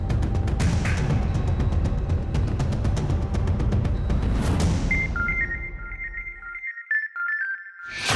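A loud burst of noisy sound gives way to a steady electronic ringtone, a repeating high tone that chirps on for several seconds.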